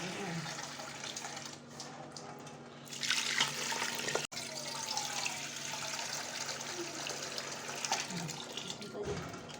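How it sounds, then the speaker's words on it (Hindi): Water pours steadily into a cooking pot while jaggery rice is being made, a continuous splashing rush that runs for the whole stretch and swells briefly partway through. "ये पानी डाल दिया, चाश में डाल देंगे और पानी और डाल देंगे।"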